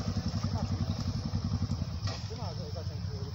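Enduro motorcycle engine cranked in repeated rapid pulses that fail to catch, loud and close, with people shouting over it during an enduro training session.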